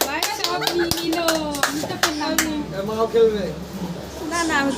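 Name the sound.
hands clapping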